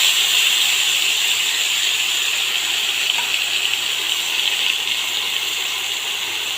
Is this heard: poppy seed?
yes